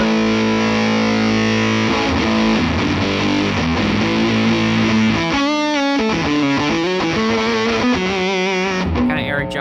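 Heavily fuzzed electric guitar through an Electro-Harmonix Big Muff Russian pedal plays sustained chords and then choppier riffs, thick and saturated, loud and close with no voices.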